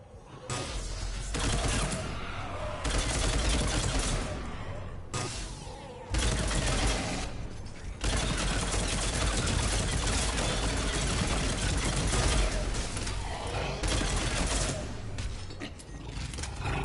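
Dense, roaring battlefield din from the Mass Effect game, with sustained heavy gunfire and mechanical noise filling the air almost without pause.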